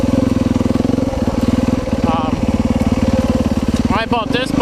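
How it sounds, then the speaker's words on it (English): KTM two-stroke enduro motorcycle, likely a 250 or 300 XCW, running with a steady, rapid buzzing engine pulse throughout, loud and close, while someone talks over it. "It's a KTM bike."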